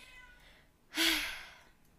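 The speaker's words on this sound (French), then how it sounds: "il y a mon chat qui m'embête" A pet cat lets out a single short, fairly loud meow mid-clip, preceded and followed by quiet room tone.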